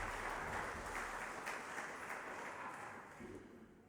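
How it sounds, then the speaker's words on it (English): Applause from an audience at an evening panel talk on pituitary research in Sydney. Broad, steady clapping from many hands fills the whole stretch, fairly faint and slowly fading toward the end. "So give Jamila a big round of applause."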